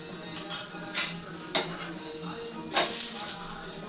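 Oil sizzles in a pan at moderate level while metal utensils clink and scrape against it in a few sharp knocks, with a longer hiss near the end.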